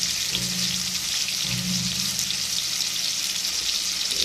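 Rice-paste fritters made with flower leaves fry slowly in oil with a soft, even hiss that runs steadily throughout, close and moderately quiet, with no voices.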